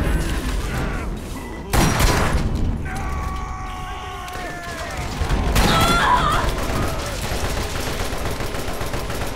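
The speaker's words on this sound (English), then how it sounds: "I'm chucking my grenades at him" Grenade explosions in the co-op shooter Borderlands come as two heavy, broadband blasts a few seconds apart, over constant gunfire and game effects, with players talking throughout.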